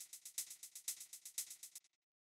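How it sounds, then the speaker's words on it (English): A short electronic shaker sample plays a quick, even rhythmic pattern of bright rattling pulses alone, then cuts off abruptly into silence. "So it's just this little shaker sample."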